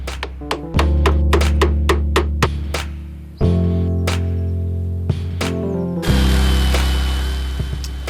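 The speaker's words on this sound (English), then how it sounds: "I glue everything together and then hammer it tight." The glued antler and wood handle parts of a Puukko knife being hammered tight: a quick series of sharp, close metallic taps, then sparser blows over a droning machine hum.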